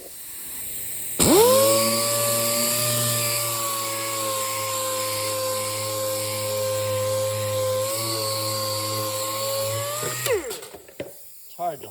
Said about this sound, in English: I'm sanding it with 120 on the DA sander, orbital sander.